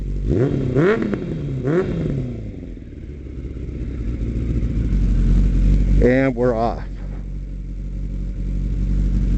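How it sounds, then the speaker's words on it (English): A car fitted with a D&D exhaust from Fort Worth, Texas, revs up in a few rising, throaty bursts, one pair early and another later, over a steady idle, with someone talking. "Let's give the D&D exhaust from our good friends at Fort Worth, Texas, a few revs."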